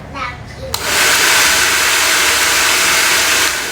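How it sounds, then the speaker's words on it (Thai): A hair dryer switched to medium heat kicks on and blows a loud, steady rushing hiss that holds for several seconds while drying roots of hair, with a brief voice heard just before it starts. "อันดับแรกเราก็ต้องเป่าโคนให้หมาดก่อนนะ ค่อยเป่าปลาย"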